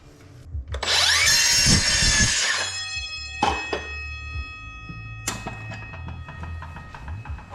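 A power tool, likely a drill or saw, cuts a piece to length for a fat-tire motorized board track racer bicycle build: a loud sustained whine for about two seconds, then a few shorter bursts and clanks in a workshop.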